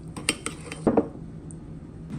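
A utensil scrapes and taps against a dish while stirring brown sugar, melted butter, cinnamon and ground ginger together, giving a few soft clinks and a brief thicker scrape, close up and quiet.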